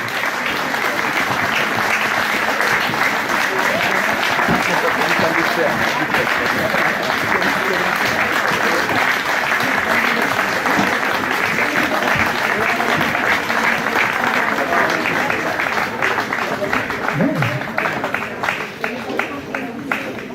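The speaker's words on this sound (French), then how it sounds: "on peut encore les applaudir au moment où ils nous rejoignent" An audience applauds volunteers as they come to join the group at a local event, the clapping thick, loud and unbroken for the whole stretch.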